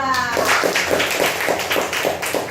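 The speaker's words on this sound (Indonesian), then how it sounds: "tepuk tangan untuk kelompok 2" A class of students claps for a group at school, a few seconds of sharp, fairly rhythmic hand claps in unison, close and moderately loud, with some voices mixed in underneath.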